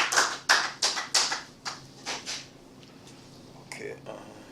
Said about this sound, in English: I get extra clapping?